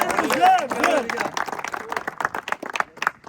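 A crowd at a factory workers' football awards presentation claps for a player, a quick burst of applause that tapers into scattered individual claps, with a voice over the start.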